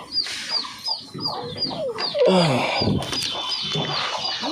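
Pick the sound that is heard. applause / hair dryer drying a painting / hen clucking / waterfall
hen clucking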